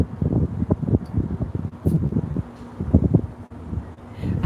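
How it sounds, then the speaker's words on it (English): Gusty wind blowing outdoors, buffeting the microphone in uneven low rumbling bursts and steady rushing noise, loud and close throughout. "I'm out here and it's windy"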